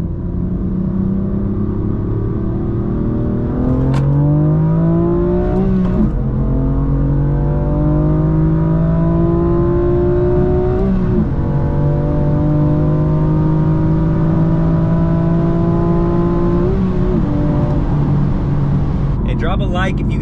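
A stock manual BMW M4 Competition F82 accelerates hard from 60 to 130, its engine rising through several gears with brief dips at each shift, loud and close from inside the car.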